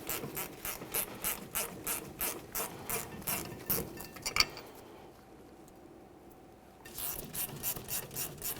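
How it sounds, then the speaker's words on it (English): A ratchet removes 18mm caliper bracket bolts on a 1999-2006 Chevrolet Silverado 1500, producing quiet, close, evenly spaced clicking strokes that pause for about two seconds, then resume at the same steady pace. "let's continue on with removing our 18mm caliper bracket mounting bolts"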